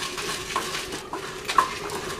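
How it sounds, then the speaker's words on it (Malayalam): Black pepper, dried chillies and whole spices are dry-roasted in a pan for Kerala-style beef roast masala, with a soft steady hiss under a few light scraping stirs and faint clinks of a utensil. "കുരുമുളക്, ഉണക്കമുളക്, മുഴുവൻ മസാല, ഇതെല്ലാം ഒന്ന് നന്നായിട്ട് നമുക്കൊന്ന് വഴറ്റിയെടുക്കാം"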